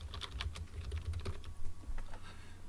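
Quick, close keystrokes on a computer keyboard as an email address and subject are entered into a newsletter form, a brisk uneven patter of clicks with no talking.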